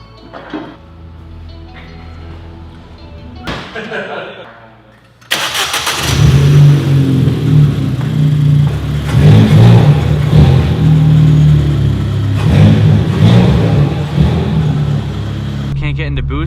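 A widebody big-turbo Ford Fiesta ST engine starts, then revs in loud swells with a faint turbo spool, following quieter talk and handling noises at the beginning.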